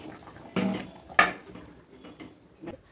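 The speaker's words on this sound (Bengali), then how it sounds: "গ্যাস বন্ধ করে দিলাম, এবার ঢাকা দিয়ে দেবো।" A lid is set on a cooking pot with two close, clattering metal knocks about half a second apart, followed by faint rattling and quiet background noise.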